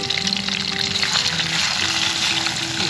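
Chicken fries in hot oil with a loud, steady sizzle and bubbling that fills the moment without pause, close up and with no talk over it.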